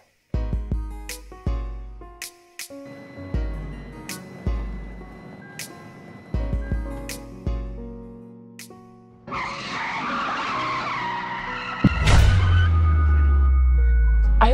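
A car brakes hard and skids, preceded by a string of sharp knocking impacts, then a loud, sustained tire squeal and spray-like hiss building to a heavy low rumble at the end; close and loud.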